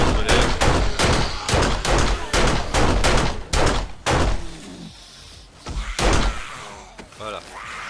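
Pistol gunshots in the zombie survival game 7 Days to Die crack out in a quick run of sharp, loud bangs, then a few scattered shots, with someone talking over them.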